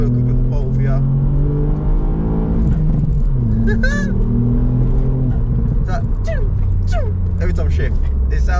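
A Ford Fiesta ST Mk8 engine with an aftermarket induction kit revs and rises in pitch through gears with a throaty intake growl, while a person talks over it.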